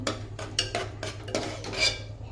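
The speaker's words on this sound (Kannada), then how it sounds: "ಈಗ ಇದಕ್ಕೆ ಸ್ವಲ್ಪನೇ ಬೇಳೆನ ಈ ಥರ ಸ್ವಲ್ಪ ನೀವು ಸ್ಮ್ಯಾಶ್ ಮಾಡ್ಕೊಳ್ರಿ" Rhythmic scraping and soft thudding of a utensil mashing cooked split mung dal for payasam in a metal pot, several strokes over a low steady hum.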